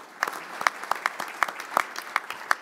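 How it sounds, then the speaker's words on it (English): Sparse, scattered hand claps ring out at the close of a safety leaders' conference, a small group applauding the organising team in short separate bursts rather than a dense ovation. "let's give them a round of applause as well"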